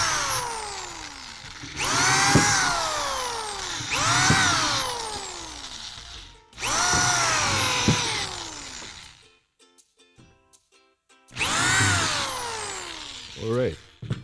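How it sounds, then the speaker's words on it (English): A power drill boring pilot holes into wood in a DIY workshop, three long whining bursts that rise and fall in pitch, a short pause with light clatter, then another drilling burst. "I'm going to put these pilot holes now as I switch this around to work"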